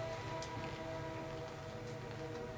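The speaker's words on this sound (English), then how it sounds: "I can't hear, hold on, the train." A train rumbles past in a continuous low drone with faint tonal hums, steady and fairly quiet, with no speech.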